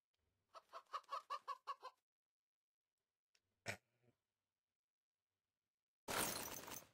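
A chicken in a video game gives a quick run of six or seven clucks, then a lone short squawk, followed by silence and a loud burst of harsh noise at the end.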